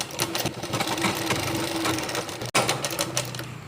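A sewing machine stitches a zip into a nightie, running in a fast, steady mechanical chatter, close and loud with one brief pause.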